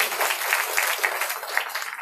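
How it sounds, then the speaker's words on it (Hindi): Audience applause at a Srimad Bhagwatam religious discourse in Noida, a dense, continuous patter of many hands clapping at even loudness from start to finish. "तो ताली बजाइए इनके लिए सभी लोग।"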